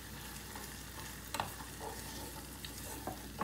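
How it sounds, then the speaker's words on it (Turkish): Shrimp tossed into a pan of sautéed garlic fry with a steady sizzle, broken by a couple of sharp stirring clinks, close and continuous. "Şimdi içerisine karideslerimi ilave ediyorum."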